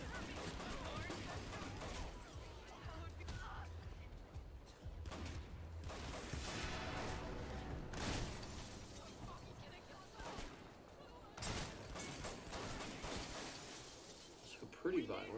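In a video game, a car smashes through a house, giving a string of crashing, shattering and splintering impacts with loud bursts scattered irregularly through the stretch, heard faintly under a voice talking.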